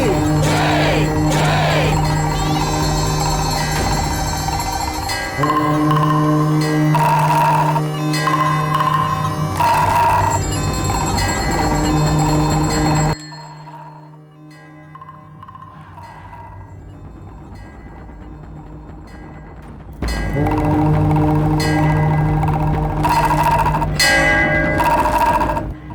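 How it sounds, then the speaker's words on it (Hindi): Temple bell ringing with nagara drum played during Hindu worship in an Indian film scene, loud dense ringing tones and steady drumming that drop away to near silence midway, then return at full strength. "घंटी और नगाड़ा बजाओ।"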